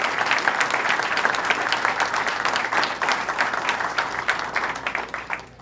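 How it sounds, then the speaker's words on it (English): An audience at the 2016 Great New York State Fair breaks into steady, dense applause, many hands clapping loudly and evenly for several seconds before tapering off at the end. "let's give the Department of Agriculture a big round of applause."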